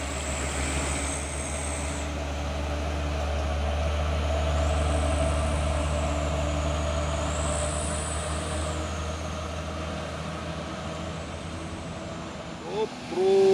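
A Nissan diesel truck passing on the road: a loud, steady low engine drone that swells and fades, with whining tones rising and falling above it.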